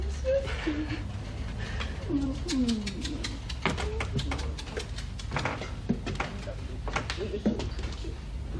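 Pet birds coo softly in a series of low, warbling calls indoors, scattered over about eight seconds beneath clicks, knocks and background room noise.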